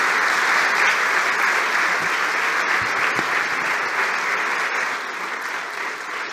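Applause at a 2023 diploma ceremony for interns, a dense, steady roar of many hands clapping throughout, easing slightly toward the end.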